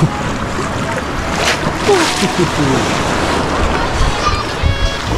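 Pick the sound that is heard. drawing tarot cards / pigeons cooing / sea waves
sea waves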